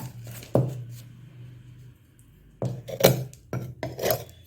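A knife scraping burnt crust off an iron kadai gives short, rough rasping strokes in a few separate bursts with quiet gaps between them, close and fairly soft.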